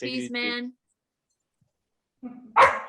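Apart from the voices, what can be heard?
dog barking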